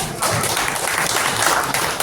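An audience applauds at a felicitation ceremony for a legislator in New Panvel, Maharashtra, the dense, steady clapping filling the whole clip at close range without a break.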